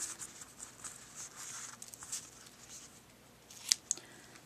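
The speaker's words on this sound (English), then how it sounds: "Trim up my tails." Scissors trimming the ribbon tails of a small bow: a few quiet, crisp snips, with two sharper cuts close together near the end over faint background rustle.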